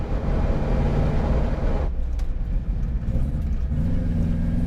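Subaru Loyale engine with an upgraded fuel pump accelerating under boost while merging onto a road, a loud, steady, close rumbling drone that dips briefly and then pulls on.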